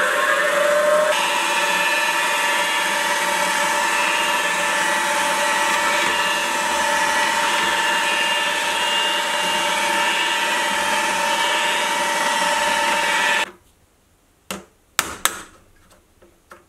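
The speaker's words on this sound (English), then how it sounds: "I'll start off by drilling 3 holes in the wood" A power drill boring holes in wood whines steadily and loudly for about thirteen seconds, then stops, followed by a few short clicks and knocks.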